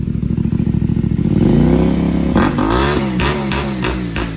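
CFMOTO Ibex 450 motorcycle fitted with a Yoshimura exhaust, revving up from a lumpy idle into a loud rising roar, then blipped in several sharp throttle bursts, close by.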